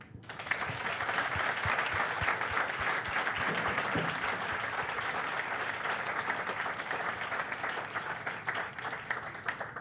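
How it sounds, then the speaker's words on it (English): Sustained applause from a large audience at a Falling Walls round table on training future scientists, dense and even clapping that fills the whole stretch without pause. "Big applause for you."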